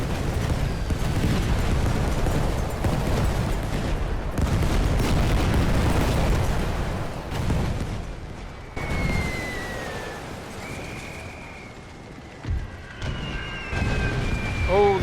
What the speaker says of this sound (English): Oh, we're blowing our own men up. Get those grenades out.